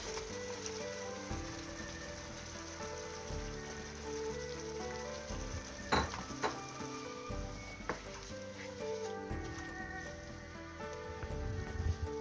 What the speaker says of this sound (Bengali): চিংড়িটা কষানো হতে থাকুক, একটু ঢেকে দিই।